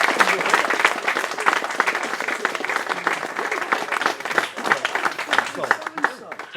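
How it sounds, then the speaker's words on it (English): Awards-night audience at a hobby league final applauds its winners, a dense, steady burst of many hands clapping that swells slightly toward the end, with voices mixed in. "Round of applause."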